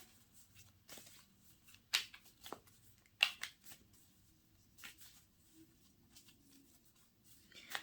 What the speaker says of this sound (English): can I get another clarifying card, please, Bubba?